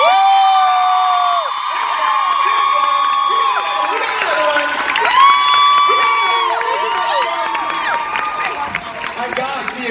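At a Miraculous Ladybug panel at San Diego Comic-Con 2016, a packed room audience cheers, whoops and shouts loudly and continuously, close and sustained throughout.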